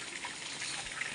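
Water poured from a vessel in a rural home, a soft steady trickle and splash close by, continuous and quiet with no voices over it.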